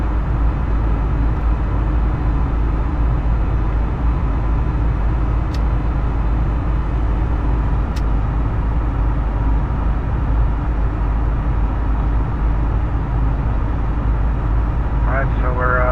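Steady, loud jet engine roar from an Airbus A320neo at climb thrust in a flight simulator, a constant broadband drone throughout with no letup, while someone talks over it.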